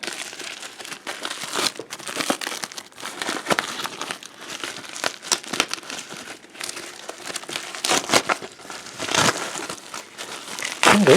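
Packaging for a coin set is torn open by hand, giving continuous close crinkling and crackling of plastic and paper with irregular louder rips throughout.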